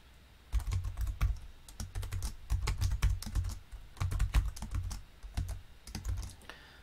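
Someone types C++ code on a computer keyboard in quick, close bursts of clicky keystrokes with brief pauses between runs, and no one talks.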